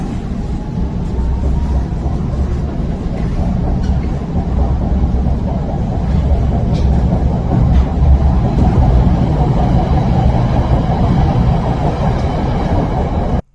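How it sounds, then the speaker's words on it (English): A Beijing Subway Line 19 train pulling into a station, a steady loud rumble of rolling carriages and rail noise with a rising tone, continuous throughout. "The train to Songjiazhuang is arriving. Please stand clear of the doors."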